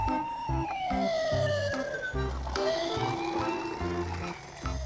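A toy police patrol van siren wails on its own, a loud electronic tone sweeping down and up in repeating cycles over a choppy, beeping rhythmic pattern.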